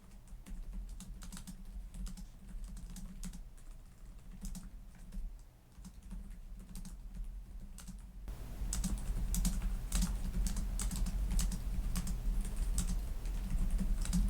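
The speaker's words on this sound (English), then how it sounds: "But the keyboards here are really nice. Let's give a quick type here." Quick typing on the keyboard of an Acer Predator Helios Neo 16 gaming laptop, a close run of light key clicks that grows louder and busier partway through, with no talk.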